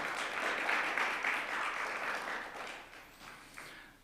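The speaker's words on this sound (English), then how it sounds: "So big round of applause for all of them." Steady, moderately loud audience applause in a performing arts center at a rare-disease summit, tapering gradually toward the end.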